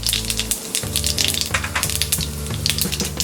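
Mustard seeds go into hot oil in a pan while making temple-style tamarind rice, giving a steady close crackling sizzle with scattered sharp pops throughout.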